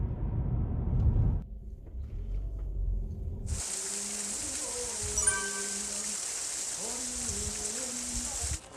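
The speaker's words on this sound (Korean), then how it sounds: "비가 오네요" Rain falls outdoors in Munbae Village, Chuncheon, as a steady bright hiss that follows a low rumble, with faint tonal sounds and murmurs underneath.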